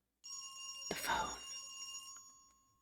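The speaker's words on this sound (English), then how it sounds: "The phone." A telephone rings in the horror video game Dread Weight, a bright electronic bell tone that starts suddenly and is joined by a brief rattling clatter, then rings on and fades. No one talks over it.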